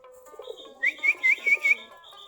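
Desi giribaj pigeons feeding on paddy and water give five quick, rising chirping calls in a short row, close and fairly clear, over a faint background murmur.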